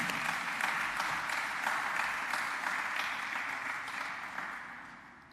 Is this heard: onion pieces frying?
no